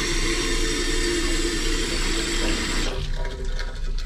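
Lab eye wash station spraying water after its push handle is pressed, a steady loud hiss and splash that drops in level near the end as the flow changes.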